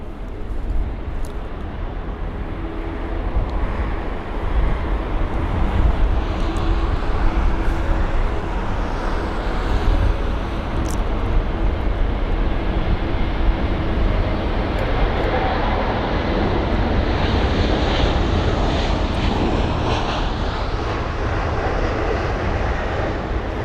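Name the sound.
Lufthansa airliner in old livery passing at Heathrow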